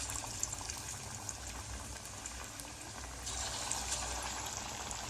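Sankara fish frying in hot oil in a pan, a steady broadband sizzle and bubbling that holds throughout and grows slightly louder partway through, with no talk.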